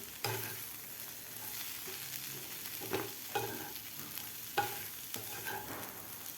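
Fenugreek dal with vegetables being stirred in a pan on the stove, a soft continuous sizzle with periodic scraping stirs, fairly quiet and with no voices.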